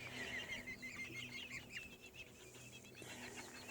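Large chickens cluck and chatter softly at a moderate distance, several birds calling over a steady low background hum.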